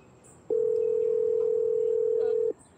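A phone call's ringing tone sounds as one steady, clear electronic tone lasting about two seconds, alone against a quiet background.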